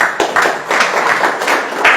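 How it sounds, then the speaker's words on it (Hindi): Audience clapping together in a short burst of applause, brisk and fairly close, with individual hand claps audible in the rhythm. "एक बार ताली होना चाहिए।"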